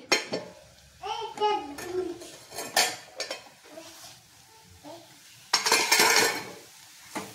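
A spoon stirs khichdi in a pot over low heat, with scraping and metallic clinks of utensils and a faint sizzle, while someone speaks intermittently nearby.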